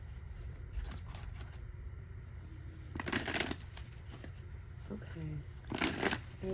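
Playing cards shuffled for a tarot-style reading, giving two or three bursts of crisp riffling against a faint room hum with a low voice in the background.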